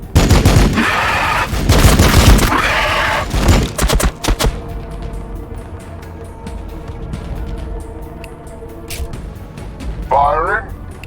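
Gunfire in the Warhammer 40k: Battlesector video game as Blood Angels forces engage the enemy, dense bursts of shots over the first seconds, then thinner battle noise with a voice cutting in near the end.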